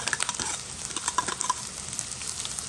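Ginger, chili and garlic sizzle and are stirred in a hot pan, a steady crackling fry with light scraping and patter throughout, fairly close.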